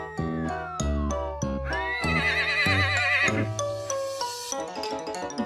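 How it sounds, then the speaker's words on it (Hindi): A horse whinnies in a sequence of bright, wavering neighs over a musical backing, close and clear with no talking. "दौड़ा दौड़ा दौड़ा घोड़ा दुम उठा के दौड़ा"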